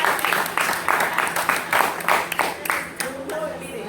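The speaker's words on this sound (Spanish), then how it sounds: "Un aplauso para los diez." Steady clapping from a church congregation, dense and continuous, with a few louder claps standing out and some voices mixed in.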